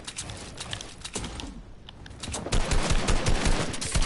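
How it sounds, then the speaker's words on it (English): A charged shotgun fires in Fortnite amid a dense flurry of close, loud gunshot blasts. The shots come in quick, uneven bursts that intensify in the second half. "he's a charged shotgun, a great weapon"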